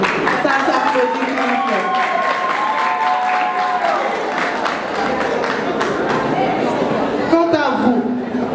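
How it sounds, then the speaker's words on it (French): Sustained applause from an audience at a beauty-training certificate ceremony, honoring the trainer: dense, steady clapping with crowd chatter and a few voices talking underneath throughout. "ça s'applaudit."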